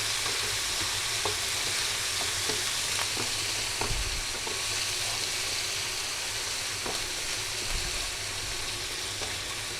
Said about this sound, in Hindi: इसको बस 1 मिनट में फ्राई करूँगी।